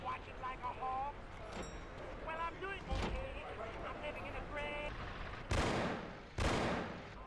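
Gunfire from the Mafia video game crackles in several sharp bursts, with two loud broadband blasts near the end, mixed with game dialogue and a steady background of noise.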